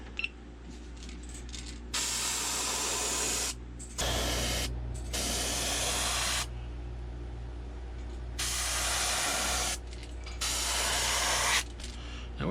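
Airbrush spraying fluorescent orange paint onto the belly of a 110 jerkbait lure, a steady close hiss in several bursts of a few seconds each, separated by short pauses, over a low constant hum.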